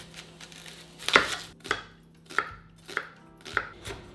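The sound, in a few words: chopping onion, garlic and ginger with a knife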